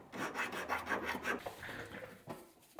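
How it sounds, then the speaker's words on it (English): A quarter coin ring is smoothed with 220 grit sandpaper, a steady close rasping rub in quick repeated strokes for a few seconds, fading toward the end, with no talk. "A little bit of 220 grit sandpaper just to smooth everything up."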